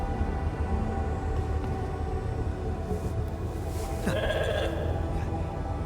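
A sheep bleats in the video game The Alters, a short call near the end over a steady bed of game ambience and low rumble.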